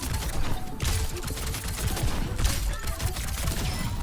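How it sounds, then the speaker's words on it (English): Rapid weapon fire from Freja in Overwatch 2 crackles through a busy, dense game mix, with repeated sharp shots and mechanical clicks running steadily without pause. "So you want to shoot 4 bullets and then take aim"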